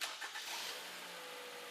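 A car engine in a workshop, its tailpipe hooked to a shop exhaust ventilation pipe for a fuel injection service, cranks in a couple of quick bursts and then catches into a steady idle.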